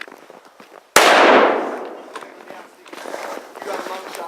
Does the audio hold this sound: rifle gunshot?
yes